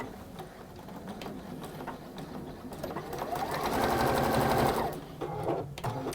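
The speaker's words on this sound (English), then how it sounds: "So I'm going to sew across it." A domestic sewing machine stitches steadily across fabric seams, its rapid mechanical chatter rising in a sustained loud burst midway, with short pauses and faint background sounds around it.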